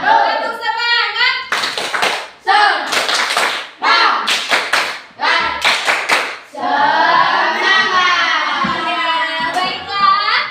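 A sixth-grade primary school class in Indonesia claps together in a quick patterned rhythm, bursts of sharp group clapping broken by short pauses, with children's voices chanting along.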